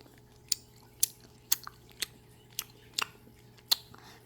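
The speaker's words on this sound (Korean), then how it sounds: "치즈 있는 곳 치즈만 먹어볼게요" Close, crisp chewing and biting of a hamburger-shaped ice cream with a cheese portion, a series of sharp crunchy bites at a steady, roughly half-second rhythm over quiet background.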